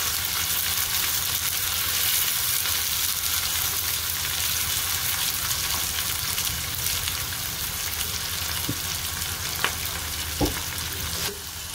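Onions with green chilies fry vigorously in hot oil for a vendhaya curry, a dense, loud, continuous sizzle with a couple of faint utensil taps near the end.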